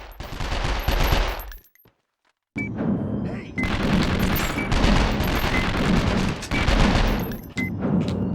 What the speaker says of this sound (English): And they're shooting at me!